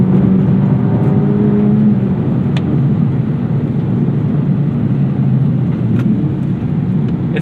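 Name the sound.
2024 Acura Integra Type S engine revving with aftermarket exhaust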